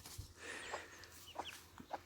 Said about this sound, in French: C'est une poule qui est hyper gentille.